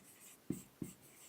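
Pen or chalk strokes while a sentence is written out in an English verb-tense lesson: two short, sharp taps about a third of a second apart, close and quiet, with no talk.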